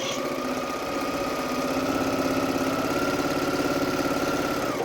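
A sewing machine runs steadily while stitching quilt pieces for a star quilt, a continuous mechanical hum and rapid needle vibration held at an even pace from start to finish, close and fairly loud.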